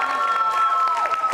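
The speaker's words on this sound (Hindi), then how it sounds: "प्रियंका मंडोरिया के लिए जोरदार तालियां बजाइए" A crowd claps and cheers loudly for a contestant at a quiz show during a girls' teacher training college anniversary event in Jaipur. A steady wash of applause is mixed with whistling tones.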